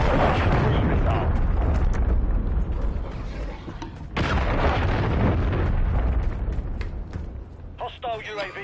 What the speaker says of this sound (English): Friendly cruise missile deployed. Hostile cruise missile.